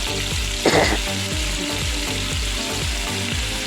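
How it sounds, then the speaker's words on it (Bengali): Potatoes fry in a pan over a gas flame, a constant loud sizzle broken by a regular rhythm of stirring scrapes and one brief sharper spatter. "সাত মিনিট পর দেখো আমার আলু আর একটু ভালো করে ভাজা হয়ে গেছে"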